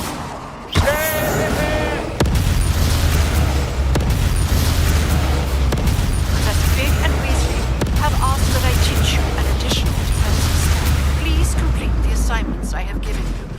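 The Confringo blast spell explodes in Hogwarts Legacy, sharp bursts that open into a loud, sustained crackling roar with repeated impacts. A voice talks over the fight.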